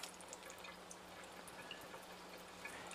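Tap water from an AlkaViva Athena alkaline ionizer runs steadily into a small test container, a faint, even hiss and trickle, close and uninterrupted, with no talk.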